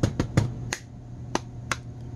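Sharp hand claps into a GameCube controller's built-in microphone: six crisp, close claps, the first three quick together and the rest spaced out, over a faint steady hum.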